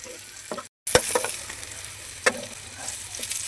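Sliced pointed gourd (potol) frying in oil as it is turned in the pan, with a continuous close sizzle and sharp spatula scrapes and taps, broken briefly by a cut of silence.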